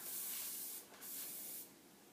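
Cooking spray hisses into a cake pan in two close bursts, a long spray followed by a short pause and a second spray, then a quieter tail, with no voices.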